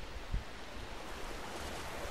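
Steady rushing water from a waterfall in the video game Guild Wars 2, a continuous broadband roar with no other distinct sounds.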